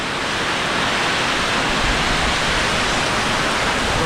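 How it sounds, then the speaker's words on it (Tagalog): Heavy rain pours down steadily and loudly during a sudden downpour, a dense, continuous hiss with no break and no voices over it. "Lakas ng ulan."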